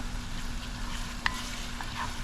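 Onions cooking in a pan for mango and celery achaar, a steady low sizzle with a few light spoon knocks as they are stirred, close and fairly quiet, no speech.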